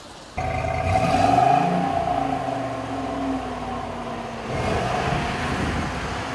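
A stock Ford F-250 pickup with a 6.2L V8 starts up and revs, giving a loud, close exhaust drone that swells, settles to a steady idle, then rises again in a second rev.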